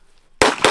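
A pistol fires two sharp, loud, close shots about a quarter second apart, cutting through near silence.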